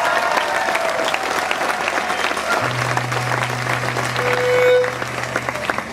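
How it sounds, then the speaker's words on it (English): An audience applauds a band member at a music gathering in Chamonix, with sustained, moderately loud clapping and a low held tone sounding under it. "how about a little round of applause for our good friend Alex Johnstone on the band?"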